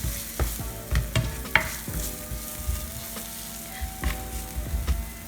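Curry paste for a prawn curry is stirred in a hot pan, with repeated scraping strokes over a soft sizzle and faint background music.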